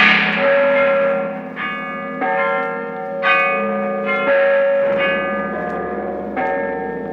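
Church bells ring out as a radio drama sound effect: a run of strong, overlapping metallic strikes every second or so, each leaving a long, shimmering hum, loud and close with no voices.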